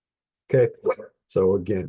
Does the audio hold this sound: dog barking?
yes